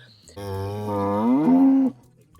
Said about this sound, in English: These cows are so majestic.